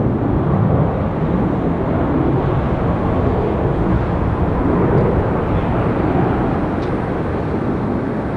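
An airliner jet taxis at Tampa airport during a winter storm, its engines producing a steady, broadband roar that stays even and unbroken throughout with no talk.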